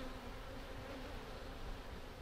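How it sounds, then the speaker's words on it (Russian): Honeybees and drones buzzing at an open hive during an inspection: a faint, steady, low drone of many wings humming together without pause and with no voices. "И тут пчела и трутни."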